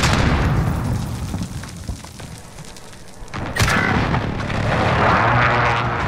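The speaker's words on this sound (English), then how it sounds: "Airstrike, take cover!" Airstrike explosions boom and rumble in the Modern Warfare video game, a heavy burst at the start fading into a low roll, then another loud blast midway followed by sustained rumbling debris and noise.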